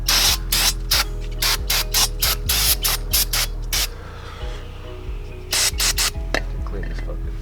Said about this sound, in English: DOT O'Reilly's brake cleaner. That's what you need.